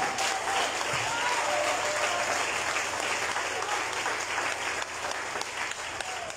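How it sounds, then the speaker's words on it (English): A church congregation at a youth worship service claps for Jesus, sustained loud applause from a large crowd that holds steady the whole time and eases only slightly near the end. "I want you to clap very well for Jesus"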